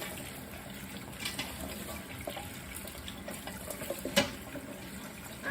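Water runs from a kitchen tap into a pot for boiling, a quiet, steady splashing rush with a small clink near the end and no talking.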